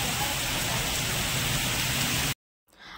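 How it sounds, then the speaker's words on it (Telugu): Steady, dense rain pours down loudly and continuously, then cuts off abruptly near the end. "కాకపోతే మొత్తం వర్షం వర్షం."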